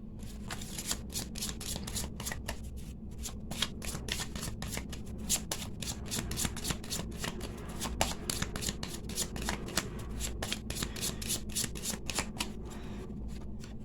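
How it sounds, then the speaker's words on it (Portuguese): Tarot cards being shuffled and laid on a table, a long run of rapid riffling flutters and crisp card snaps, close and steady, with no talk. "Então vamos trazer o tarô para a mesa agora"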